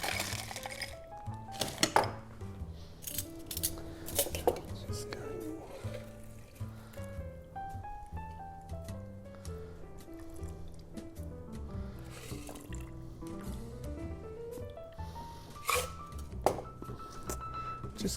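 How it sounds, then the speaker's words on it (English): A Yellow Negroni cocktail poured into a rocks glass over ice, with clinks of ice and glass, splashes and soft liquid trickles in a quiet bar setting; no one speaks. "we're going to then put it into a rocks glass"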